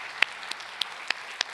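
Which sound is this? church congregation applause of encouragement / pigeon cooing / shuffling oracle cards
church congregation applause of encouragement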